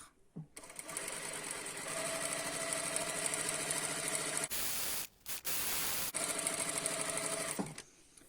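A sewing machine stitches a gathering line on a ruffled skirt, a loud, close, steady mechanical whir running in long bursts with two short pauses before stopping.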